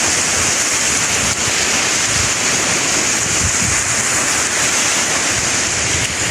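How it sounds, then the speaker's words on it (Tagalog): Sea waves rolling along a provincial shore, a steady loud broadband wash with wind noise throughout and no speech. "Ayan ang dagat eh."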